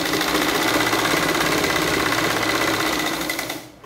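A sewing machine stitches the band of a shirt, running loud and continuous with a fast, even mechanical chatter before winding down at the end.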